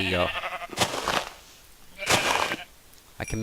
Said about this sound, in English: There's a sheep. And I'm going to go grab him.